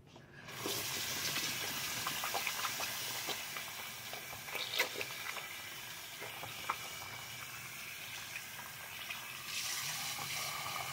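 Water runs steadily from a tap into a sink while face wash is rinsed off, a continuous close splashing gush that lasts throughout with small fluctuations.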